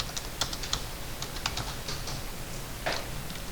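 A few quick keystrokes are tapped on a computer keyboard while entering an AutoCAD command, faint and close, with scattered clicks and no talking.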